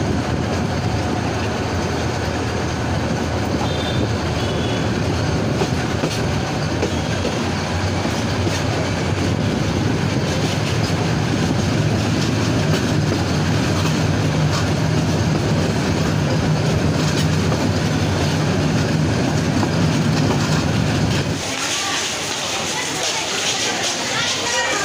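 Teesta Express passenger train running on rails after leaving Melandah Bazar station, a loud continuous rumble and rattle of carriages heard from inside, steady throughout before easing near the end.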